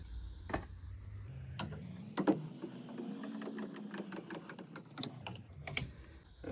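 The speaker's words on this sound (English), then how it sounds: "We'll pump some grease in it." A hand grease gun pumps grease into the wheel bearing of a SeaArk 2072 boat trailer. Sharp mechanical clicks and ticks repeat at an irregular, close-up rhythm over a soft background.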